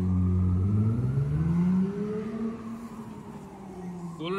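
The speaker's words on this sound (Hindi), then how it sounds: "racing car" A racing car on a busy Manhattan street, its engine revving loudly nearby and then fading as it pulls away, with city background noise behind.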